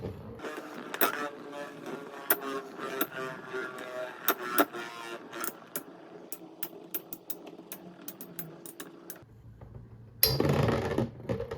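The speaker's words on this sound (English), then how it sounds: "we're going to hand spin this blue one counterclockwise" Beyblade tops, one hand spun clockwise and another counterclockwise, rattle and click against each other in quick irregular ticks, close and moderately loud, ending in a sudden brief scraping burst.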